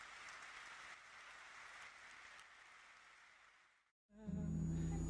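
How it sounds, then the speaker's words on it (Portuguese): Faint, distant applause from an audience, a steady wash of clapping that fades out into silence before a different sound begins. "Podem aplaudir para isso."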